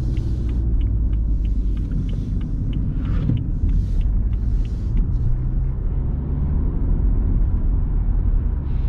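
A BMW 125d F20 diesel pulls away under light throttle from inside the car, a steady loud low engine rumble with road noise and faint ticking, no voices.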